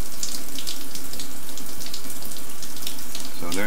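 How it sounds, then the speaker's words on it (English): A shower runs in the video game Stationeers, a steady, loud hiss of spraying water that holds evenly throughout and breaks off abruptly at the end. "let's try and take a shower now"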